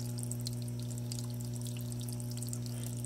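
A small water pump submerged in a reptile-enclosure waterfall gives a steady, subtle low hum that continues unchanged throughout, with a light trickle of water above it.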